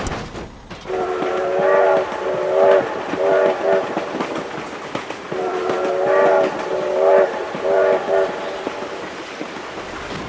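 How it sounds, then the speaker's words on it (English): A train rolls past with its horn blaring in the BeamNG Drive driving game, two long chord-like horn blasts sounding in repeated bursts over a rumbling, clattering rail roar. "Oh my god, train!"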